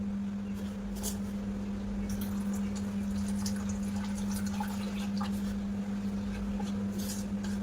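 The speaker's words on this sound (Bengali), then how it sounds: "তো হাফ বাটি জলটা দেব।" Water is poured from a half bowl into a semolina mixture for motichoor laddu, a soft trickling and splashing that runs steadily over a constant low hum, with no one talking.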